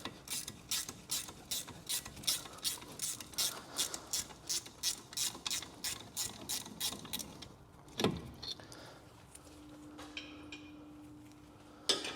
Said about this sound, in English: we're just going to take these 13mm bolts all the way out, just set them aside